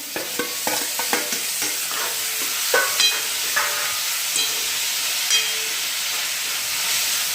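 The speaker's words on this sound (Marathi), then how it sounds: "कांदा छानपैकी आता परतून झालेला आहे मस्त शिजवलेला आहे आता यामध्ये काय टाकायचं सांगते आता यामध्ये टॉमॅटो टाकत आहे मी" Tomatoes are added and stirred into onions frying in a pan for a dhaba-style garlic fenugreek dish, giving a steady sizzle with repeated scraping and clinking stirs, fairly close and loud, with no talk.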